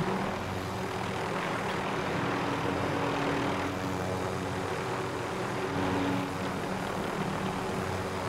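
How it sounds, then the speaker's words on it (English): A helicopter inside a video game drones steadily for several seconds, a continuous engine and rotor roar that stays even in loudness with no break. "That's a helicopter."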